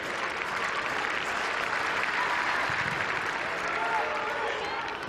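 Fans in yellow and black shirts cheer and applaud in the stands at Haugesund stadium after the final whistle of a football match, a steady roar of crowd noise that runs throughout under a commentator's voice.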